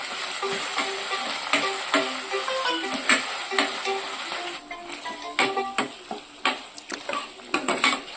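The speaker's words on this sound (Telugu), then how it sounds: "ప్యాజ్, అల్లం వెల్లుల్లి పేస్ట్, ఈ మూడు వేసి కొద్దిగా దోరగా వేయించుకుంటున్నాను." Onion, green chillies and ginger-garlic paste fry in a pan for a chicken curry, with a steady sizzle under repeated scraping and stirring clinks that grow sharper and more frequent toward the end.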